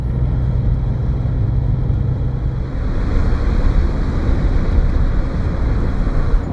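Continuous low rumble of a car driving along a forest road, steady engine and road noise with some wind buffeting and no voices.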